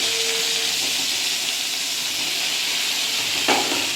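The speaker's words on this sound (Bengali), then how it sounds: "ভালো করে নেড়ে ভেজে নেওয়া হবে এটাকে" Sliced ridge gourd frying in oil in a kadai, a steady broadband sizzle and hiss throughout with a brief stirring clatter near the end.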